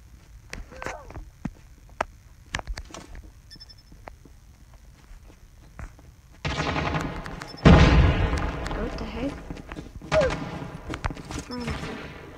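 Gunfire in Call of Duty Mobile, with sparse sharp shots early, then a loud dense burst of firing and impacts in the second half, with a voice talking at points.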